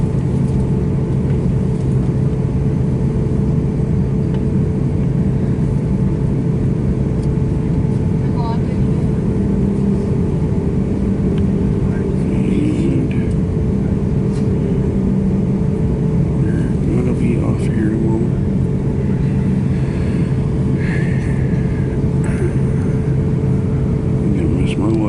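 A continuous loud, low engine drone fills an airliner cabin during landing, heard from inside. Faint rattles and muffled voices sit under the steady roar.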